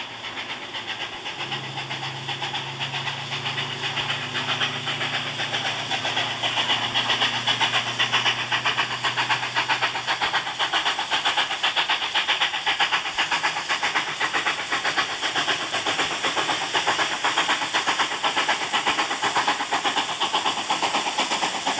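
Steam locomotive 5910 hauling a shuttle train to Buxton, a loud sustained steam hiss with rumbling running noise and a low whistle-like tone early on, continuous and close.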